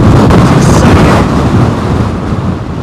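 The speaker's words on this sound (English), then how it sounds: "blasting air coming out the side of the engine" An airliner's reverse thrust blasts air out the side of its engines at Heathrow during a storm, producing a loud, rumbling roar mixed with wind buffeting that eases slightly toward the end.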